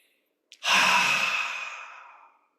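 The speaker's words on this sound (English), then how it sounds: "Now we will do deep breathing together." Close and alone in quiet, a single deep breath through the nose during guided meditation: a brief sniff, then a long airy rush that slowly fades out over about two seconds.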